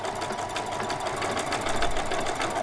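Sewing machine stitching doll bedding batting on a long stitch, a close, steady mechanical whirr with rapid needle chatter running unbroken for a few seconds.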